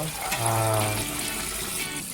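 Tap water runs and pours into a pot for cooking keto rice in a home kitchen, a steady splashing stream with a brief low gurgle early on, close by and moderately loud, with faint talk in the background.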